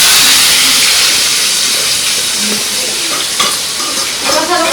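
Tomato, onion and green chili frying in hot oil in a home kitchen, a loud, close, continuous sizzle and hiss with crackling spatter that softens slightly over several seconds, with no voices.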